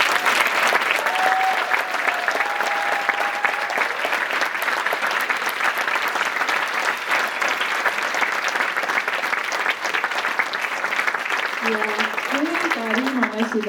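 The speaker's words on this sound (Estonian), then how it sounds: "teeme ühe suure aplausi meie armsatele tantsijatele" Audience at a folk dance concert applauds the dancers with sustained, dense clapping throughout, loud and steady, with a voice and some tonal sounds briefly audible over it near the start and end.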